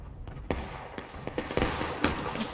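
In the Civil War game War of Rights, distant cannon shots crack out in a ragged series of sharp booms, about half a dozen over a couple of seconds, muffled and layered over battlefield noise.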